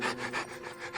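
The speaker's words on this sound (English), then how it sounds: "I hope that was just panting." A dog pants heavily in quick, rhythmic breaths, close and clear, with no other sounds.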